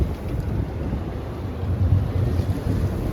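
Wind roars steadily over the microphone while sailing on Puget Sound near Elliott Bay, a dense, low rushing noise with no talk.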